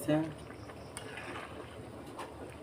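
Oil heating in a pan on a home kitchen stove, giving a soft, steady sizzling hiss with faint bubbling; a brief voice is heard at the very start.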